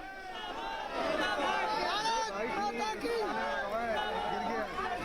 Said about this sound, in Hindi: लेकिन भीड़ हो गई है, काफ़ी भीड़ हो गई है